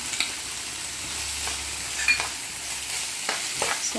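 Onion and carrot hitting hot oil in a pan, with a soft steady sizzle and a few stirring scrapes, quiet and close with no talking.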